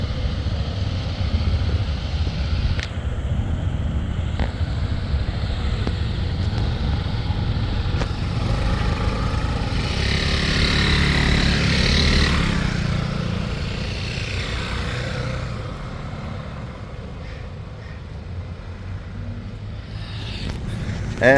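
A group of SYM ADX TG 400 scooters rides off together, their engines droning steadily, swelling as they pass close and then fading into the distance.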